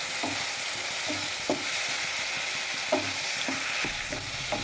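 Vegetables with cumin and coriander powder stirred in hot oil for a mixed-vegetable curry, a spoon scraping the pan in repeated strokes over a steady background sizzle.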